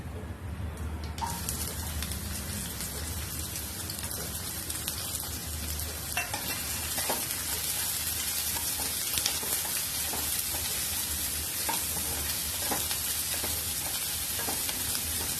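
Chopped onion hits hot oil in a heated kadhai already crackling with mustard seeds and cumin, giving a loud, steady sizzle with scattered pops and spatters that runs unbroken throughout.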